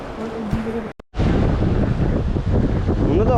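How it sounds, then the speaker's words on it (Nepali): Wind gusts roar steadily near the Marsyangdi river in Lamjung on a rainy day, a loud continuous rush broken by one brief dropout, with a voice talking faintly underneath. "त्यो हावाले हल्लाको हल्लै गर्छ क्या फेरि"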